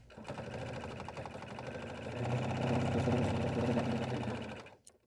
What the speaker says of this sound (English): step to your machine and stitch this part closed